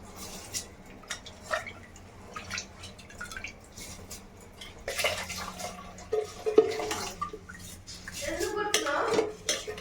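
Water and rice splash into a pot in uneven bursts, with drips, grainy pattering and light clinks of metal close at hand.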